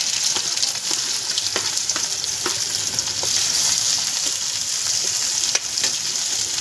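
Cumin, garlic and onion fry in a pan with a loud, steady sizzle, and occasional clicks of stirring break through the hiss.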